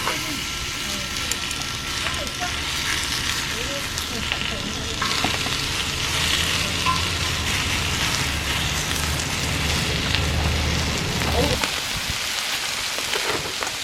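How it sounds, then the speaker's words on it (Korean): Pork belly sizzles steadily on a cast iron cauldron lid, a dense, close, continuous crackle and spatter that holds for about twelve seconds before suddenly thinning out near the end. "그리고 이제 삼겹살 소리"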